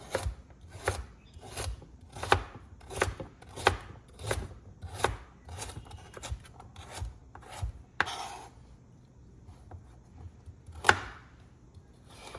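Vegetables are chopped into small bite-sized pieces on a board for chicken pot pie soup, a near series of regular knife thuds at a quick even rhythm, slowing to a few scattered cuts near the end.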